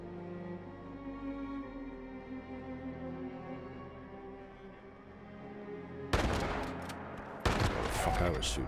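Gunfire in Fallout 76 breaks out suddenly after a stretch of calm music, with loud sharp bursts of shots in two clusters near the end.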